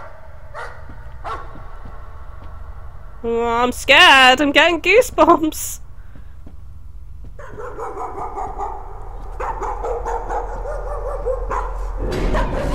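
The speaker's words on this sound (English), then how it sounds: "I can hear a dog." A dog barks in the horror video game Layers of Fear, giving a quick run of sharp, loud yelps and barks in the middle of the clip. Someone talks nervously over game ambience before and after.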